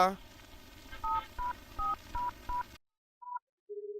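A short run of telephone keypad tones, about five quick beeps in an uneven rhythm over room noise, followed after a pause by a few more tones.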